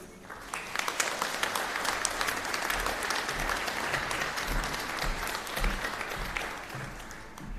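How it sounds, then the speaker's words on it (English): Steady applause fills a virtual graduation ceremony in honour of the graduates, a dense, continuous patter of many hands clapping at moderate level without a break from start to finish. "Let us applaud the graduates,"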